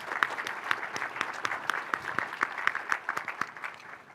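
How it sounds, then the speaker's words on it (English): A crowd at a Petoskey chamber of commerce community event claps steadily, with distinct hand claps popping through the dense applause before it tapers slightly at the end. "Big round of applause for them."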